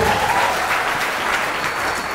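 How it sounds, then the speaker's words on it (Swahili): Loud, sustained applause from a large church congregation, dense and steady clapping filling the whole moment with no break. "mpe Bwana Yesu makofi ya sifa na utukufu."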